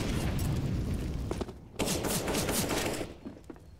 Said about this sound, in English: That's a meaty nade.